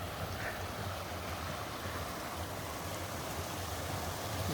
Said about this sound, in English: it's a natural water flowing from top of the mountain